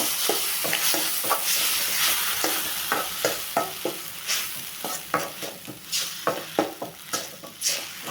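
Ingredients for a tamarind thuvaiyal sizzle in a pan while a spatula stirs them, the scraping strokes growing more rhythmic and distinct in the second half, close and clear.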